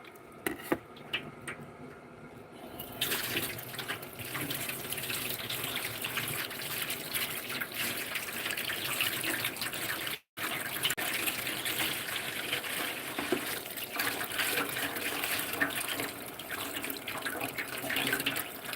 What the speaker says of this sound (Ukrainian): Тепер ми його промиваємо зараз водичкою.